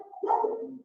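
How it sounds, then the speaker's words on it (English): A single close dog bark, a short, fairly loud bow-wow that rises sharply and trails off into a brief whine-like tail, heard alone with no talking. "is her barking like really loud and annoying?"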